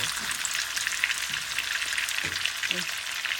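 Spice paste with salt fries and sautés in a pan, a loud, steady close sizzle, with a few brief low clanks of stirring mixed in and no talking.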